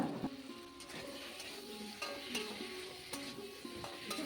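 A spoon scrapes and stirs cucumber curry with fried potatoes in a pan, giving repeated soft clatters over a quiet, low sizzle, faint and close.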